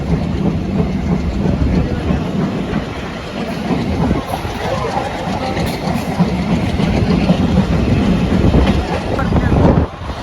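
A passenger train runs along the Dhaka to Gopalganj railway line in late afternoon, its steady loud rumble and rolling clatter continuous from close inside or beside the carriages, with faint voices mixed in.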